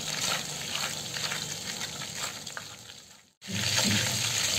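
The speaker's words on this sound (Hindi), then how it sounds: "जीरा को पिड़कने देंगे।" Cumin seeds crackling in hot melted butter in a pan for Mumbai-style dabba pulao, a soft continuous fizz and light popping, briefly cut off before resuming.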